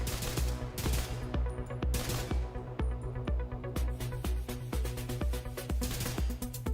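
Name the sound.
SMG gunfire emptying the magazine, video game The Division 2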